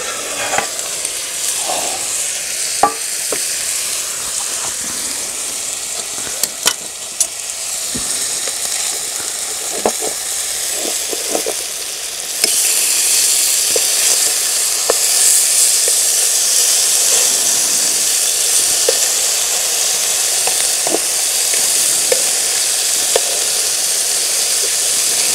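Food sizzles and fries steadily in a large firebox pan set over an EcoZoom Versa stove fuelled with charcoal, a close continuous hiss punctuated by stirring clicks, growing louder partway through.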